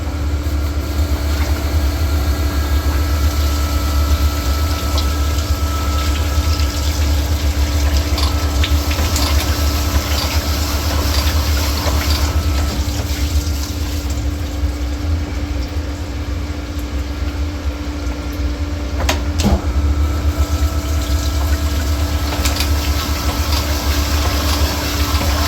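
A cylinder honing machine works the bores of a Toyota 3VZ V6 engine block, giving a steady, loud mechanical drone with a constant hum and a watery coolant wash running unbroken throughout.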